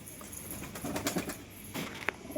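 Pigeons being fed flutter and coo close by, with soft bursts of wing flapping and scattered calls over a low outdoor background, no speech.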